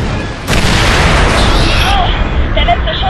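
A loud explosion as a shot strikes an aircraft in the video game Fracture, opening with a sudden broadband blast and settling into a sustained roaring rumble with faint chirping effects near the end.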